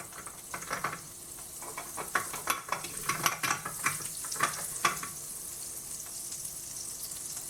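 Oil sizzling in a heated pan for homemade shawarma, a steady hiss with scattered louder crackles and pops through the middle, close and moderately loud, no talking.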